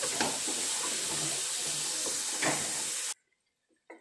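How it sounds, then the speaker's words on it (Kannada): Soaked soy chunks fry in a hot oil tempering for soybean vegetable biryani, giving a loud continuous sizzle with brief bursts of crackle that cuts off abruptly into near silence, followed by a faint clatter. "ಈ ಒಗ್ಗರಣೆಯಲ್ಲಿ ಚೆನ್ನಾಗಿ ಇದನ್ನು ಫ್ರೈ ಮಾಡ್ಕೋಬೇಕು"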